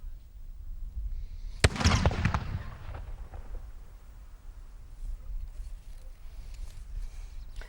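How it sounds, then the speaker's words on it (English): An explosive charge fired in open air against a target: one sharp, loud detonation crack followed by a rumbling burst and a fading tail of noise outdoors. "I'm going to demonstrate how an explosive charge applied to a target behaves when you fire it in air."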